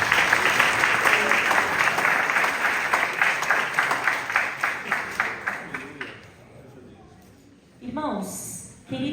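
A church congregation applauds for several seconds, a dense close crowd of claps that breaks into separate rhythmic claps before fading, after which a voice begins speaking.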